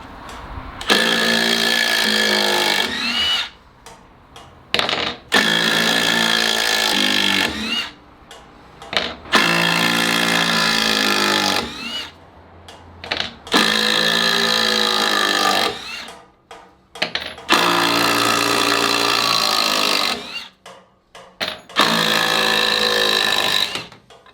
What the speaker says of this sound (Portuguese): vou desapertar. É só virar aqui o sentido da rotação da máquina